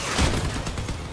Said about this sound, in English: Ow, shit, that was a rocket.